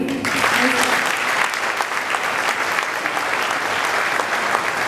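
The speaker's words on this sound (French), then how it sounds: "vous devez l'applaudir" An audience applauds at a World Bank address, steady sustained clapping from a large room throughout, with brief speech audible at the very start beneath it.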